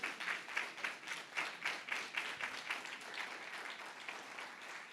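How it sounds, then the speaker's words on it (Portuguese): Church congregation applauds in a steady burst of many hands clapping, rhythmic at first and then thinning into looser, softer clapping, heard at a distance and fairly faint. "Eu gostaria que você ficasse de pé, dando uma salva de palmas para Jesus"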